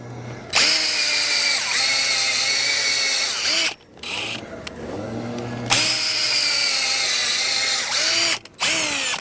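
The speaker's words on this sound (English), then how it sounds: "I love this auger. Definitely a back saver." A power auger drilling holes in soil for daffodil bulbs: a loud, close motor whine that revs and bogs down in several bursts, with short stops between holes.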